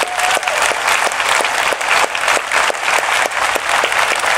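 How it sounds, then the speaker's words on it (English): Loud, sustained applause from a crowd, dense clapping that continues without a break for several seconds. "Let's give her a big round of applause, folks."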